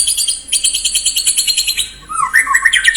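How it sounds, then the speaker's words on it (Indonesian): A songbird chirps in rapid repeated bursts of high, bright notes, then shifts to a lower warbling phrase, loud and close with no voices. "ini burung"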